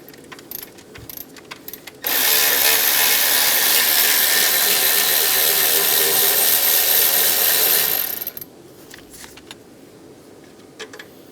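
Power tool spinning out 10mm alternator bolts on a 2007-2017 Ford Expedition, one loud continuous whir of about six seconds framed by quieter tool handling.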